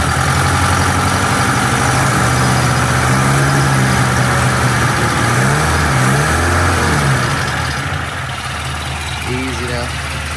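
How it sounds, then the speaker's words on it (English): A 1972 Toyota Celica engine idles steadily throughout, a loud continuous low rumble with a slight unevenness and an odd breathing quality, with brief speech-like tones over it partway through. "Thankfully, it's idling."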